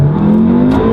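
A VAG car, such as a Golf R or Audi S3, revving hard through a launch with wheel spin, the engine note loud and close and climbing in pitch over one brief moment.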